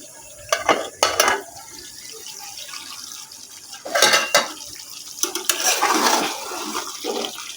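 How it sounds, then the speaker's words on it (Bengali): A metal lid lifted off a pot of mutton kosha clinks and clatters in a few sharp bursts, with softer scraping and rattling between them, close and moderately loud. "দেখো কিছুক্ষণ পর আবার ঢাকনাটা আমি খুলছি।"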